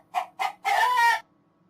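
Two short clucks from a chicken come first, then a rooster lets out one loud, drawn-out crow, all close and clear against silence.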